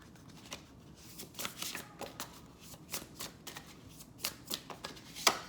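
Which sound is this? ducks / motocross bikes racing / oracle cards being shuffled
oracle cards being shuffled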